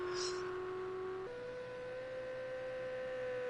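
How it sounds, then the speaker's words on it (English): A Ferrari GT3 race car in a racing game at Sugo, engine held at full tilt as a steady high drone that steps up in pitch with a gear change, heard from onboard with no talk. "So that Ferrari is at full tilt, looking to get it done"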